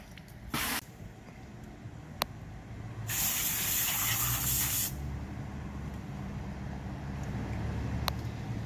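Water spray rinsing SCBA decontamination gear and PPE after washing, a short hiss burst, then a louder sustained spray lasting a couple of seconds, over a steady background rumble.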